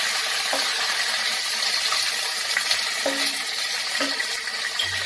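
Chicken pieces go into a hot pan for a stuffed potol dolma filling and are stirred, making a loud continuous sizzle broken by a few metallic clinks of the spoon.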